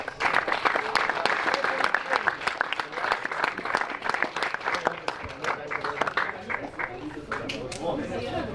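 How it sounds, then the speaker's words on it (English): Spectators at a go-kart race event applaud the race winner with a steady, crisp clatter of many hands, fairly close and sustained for several seconds, with some voices talking underneath. "please, one more round of applause"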